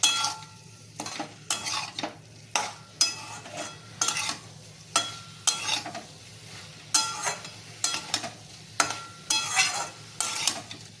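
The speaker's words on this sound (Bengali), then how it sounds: "এঁচড় আর আলু দিয়েছি এটাকে কষতে থাকবো" Jackfruit and potato are stirred and sautéed with spices in a pan for a Bengali fish curry, with repeated scraping stirs over a soft steady sizzle and no talking.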